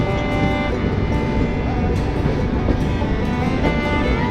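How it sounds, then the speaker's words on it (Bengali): Chilahati Express passenger train pulling out of Syedpur station, a steady loud rumble of wheels and carriage noise running continuously throughout, heard from inside the coach. "আমাদের ট্রেনটি সৈয়দপুর স্টেশন থেকে ছেড়ে দিল"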